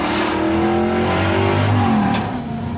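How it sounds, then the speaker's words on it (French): A Chevrolet Camaro's 5-litre V8 revs up in a loud, close, sustained growl, rising in pitch before easing off near the end. "C'est toujours le ronflement rageur du petit moteur de 5 litres qui séduit avant tout la clientèle."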